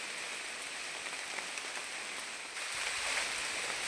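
Steady rain falls continuously during an outdoor bird hunt, a dense even hiss that grows slightly heavier toward the end, with no voices.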